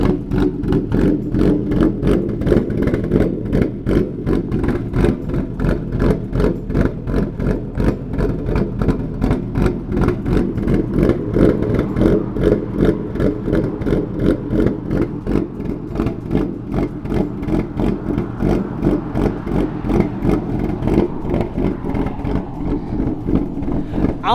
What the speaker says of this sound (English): So there is the Ghost Cam tune, the 950 idle speed and the 1050.